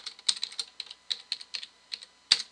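Keystrokes on a computer keyboard while entering a command on a Server 2008 core machine, a quick irregular run of close, crisp clicks with a couple of harder taps, no talking.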